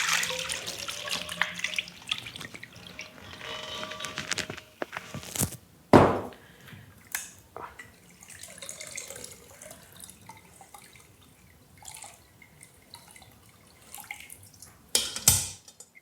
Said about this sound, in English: Now we let it drain.